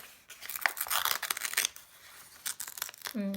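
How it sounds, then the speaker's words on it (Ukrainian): Crisp snips and crinkling paper as a small paper packet of lobelia seeds is cut open, a quick series of sharp rustles up close, ending with a brief clink. "Я, мабуть, розріжу такий пакетик"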